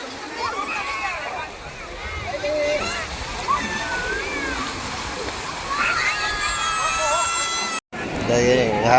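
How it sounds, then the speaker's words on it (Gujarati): Sea water washes and sloshes steadily along the beach at Somnath, a continuous wave wash with voices chattering over it and a brief cut near the end. "અમે આવી છીએ દરિયે"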